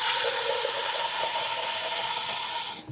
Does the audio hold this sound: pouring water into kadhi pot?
yes